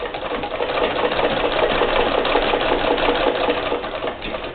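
A White treadle sewing machine driven by a polypropylene belt runs at a steady pace, making a continuous close mechanical whir with a fast, even clatter and no voices.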